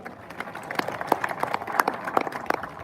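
Scattered, uneven clapping from a crowd gathered in a pandal at a farmers' protest stage on the Khanauri border, a steady patter of hands with a few sharper claps standing out, moderately loud.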